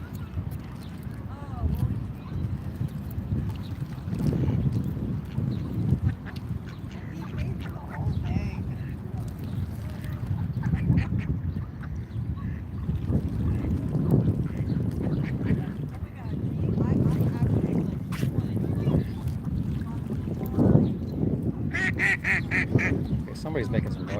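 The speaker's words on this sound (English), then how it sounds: "we're trying to lead them down closer where some land ducks are here." Ducks quack intermittently outdoors in Washington DC, scattered calls at moderate distance mixed into a steady background of people talking nearby.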